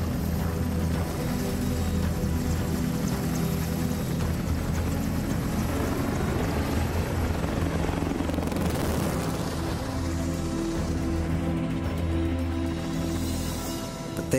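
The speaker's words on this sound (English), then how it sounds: "Leonardo da Vinci, would love to fly this helicopter" An EH-101 military helicopter drones along with a steady rotor and engine roar, loud and continuous throughout with no let-up and no voices.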